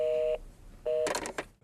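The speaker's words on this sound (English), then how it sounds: "The phone's ringing and phone's ringing." A telephone rings on a call to the VA service line, giving two short electronic tone bursts heard close up, followed by a brief clatter of line noise.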